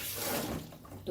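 Water is poured into a pan holding a duck, giving a short, soft splashing rush with no talk.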